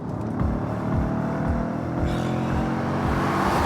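A deep 4.2-litre V8 car engine rumbles loudly and steadily close by, its revs swelling slightly toward the end, with no voices.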